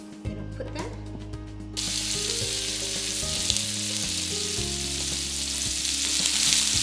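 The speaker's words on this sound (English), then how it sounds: "This has rested for an hour. It's time to fry. I've got this lovely pan that I use for everything." Rested tofu pieces sizzle loudly in a pan as they go into hot oil. A steady frying hiss comes up and holds, with a few light clatters as the pieces are placed, and nobody speaks.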